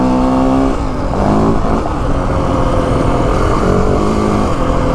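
A 2025 Yamaha WR 450F dirt bike engine revs loudly and continuously close by on a test ride, its pitch rising and falling as the throttle opens and the rider shifts.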